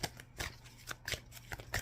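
Tarot cards shuffled and drawn in quick, soft flicking bursts, close and quiet, with brief pauses between riffles.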